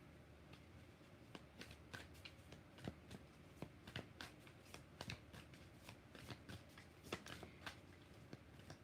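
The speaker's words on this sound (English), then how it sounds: "One more shuffle for Remy." Tarot cards are shuffled steadily by hand, giving a close, quiet run of crisp riffling clicks and flutters at an uneven rhythm with no talking.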